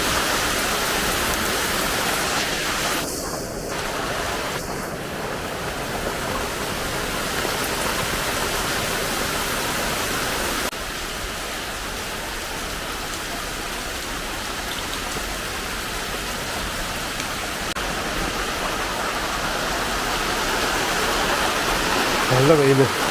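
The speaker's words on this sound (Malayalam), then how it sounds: "നല്ലൊരു മഴ പോലെ." Steady rain falling in sunshine, a dense, even hiss of drops that holds at constant loudness throughout, close and enveloping, with someone speaking over it.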